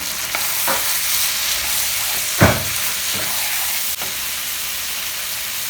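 Cashew nuts stirred into butter chicken gravy frying in a pan: a steady bright sizzle with a few scraping stirring strokes, one sharper clack near the middle, close and fairly loud.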